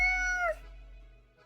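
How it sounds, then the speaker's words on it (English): A single close, clear cat meow from the video game Death and Taxes, about half a second long, then a quiet fading tail. "The cat repeats a sequence of contented meows."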